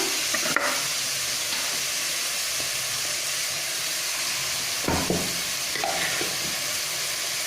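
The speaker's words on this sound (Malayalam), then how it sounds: "ഇതിലേക്ക് നമ്മൾ അരച്ച് വെച്ചിരിക്കുന്ന മസാല ചേർത്ത് കൊടുക്കാം." Ground masala stirred into a fish curry in a pan, giving a steady close sizzle and frying hiss with a few soft scraping stirs and brief clinks, no talk.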